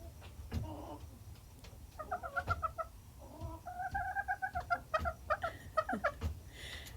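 An Egyptian-breed hen vocalizes in a coop, giving a run of quavering, rhythmic clucks and trills in repeated bursts, close and moderately loud over soft background noise.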